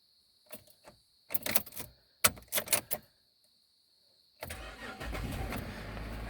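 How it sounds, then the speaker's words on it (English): A car engine cranks in several separate bursts with pauses between them, struggling to start, followed by a steady running hum after it catches, near and clear with a faint high tone throughout. "Usually doesn't take this long to start the car."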